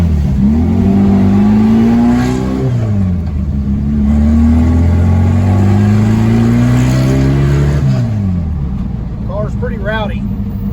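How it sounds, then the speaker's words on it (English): A Volkswagen Super Beetle with a small air-cooled engine and Holley Sniper EFI revs loudly and rowdily while driving, the pitch rising and falling through gear changes, with a brief voice near the end. "Rowdy for a Volkswagen. Of course, the small cubic inch engine makes a lot more noise than it does horsepower"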